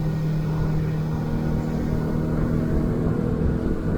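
A boat's outboard motor trimmed out runs at a steady pitch, a continuous humming drone with a faint tonal whine over a rough rumble.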